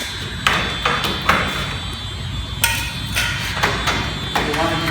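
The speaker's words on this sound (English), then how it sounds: "You're going to pop out your fluorescent lamps." Fluorescent tubes being popped out of a light sign during an LED retrofit: a series of hard clicks and knocks at irregular intervals, fairly close, with no talking.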